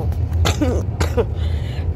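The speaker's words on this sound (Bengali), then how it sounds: "তার জন্য একটু কাশি আসতে পারে" Two short, harsh coughs from a person with a cold, close and fairly loud, followed by a brief breathy rasp.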